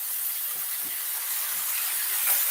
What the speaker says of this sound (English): So I'm just going to put my onion over.